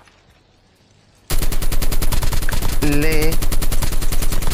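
Shotgun and automatic gunfire in Call of Duty Mobile, a solo-versus-squad match, bursting in loud and close after a quiet moment and going on as a steady rapid string of shots, with a brief voice underneath.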